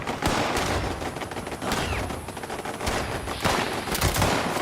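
Enemies in Fallout 76 open fire in dense, overlapping bursts of rapid gunshots. The volley runs loud and continuous throughout.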